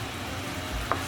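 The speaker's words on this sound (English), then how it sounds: "we want to mix until our butter is melted and everything is well combined" Butter melting with capers and black pepper in a hot pan for chicken piccata, a soft steady sizzle with faint stirring scrapes and one brief clink near the end.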